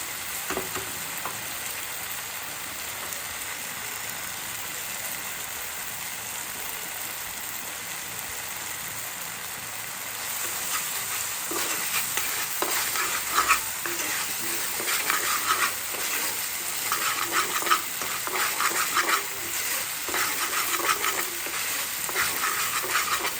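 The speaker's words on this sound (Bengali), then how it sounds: "পেঁয়াজটাকে ভালো করে ভেজে নেন, মশলাটাকে ভালো করে কষিয়ে নিতে হবে।" Onions and spices frying in a pan for prawn bhuna, a steady close sizzle that grows louder and busier midway as stirring adds scraping and crackling, with no talk.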